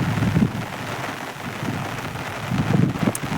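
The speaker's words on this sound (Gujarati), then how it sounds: "તો અચાનકથી બહુ ભારે વરસાદ આવી ગયો." A sudden downpour of heavy rain hisses steadily nearby, with low rumbles of thunder rising near the start and again toward the end.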